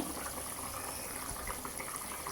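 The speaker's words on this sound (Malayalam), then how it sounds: "ഇനി നമുക്ക് തിളച്ച വെള്ളം വേണം ഇതിലേക്ക് ഒഴിച്ച് കൊടുക്കാൻ." Boiled water pours into a pressure cooker holding chicken, a soft, steady splashing gush that runs unbroken and fairly quiet, with no talking.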